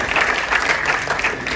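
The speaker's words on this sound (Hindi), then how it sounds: "ऐसे महान कलाकार के लिए बहुत जोरदार तालियां।" An audience claps steadily for a great artist at a birthday tribute to Pandit Jasraj. The dense, even applause fills the short stretch at close range, without a break.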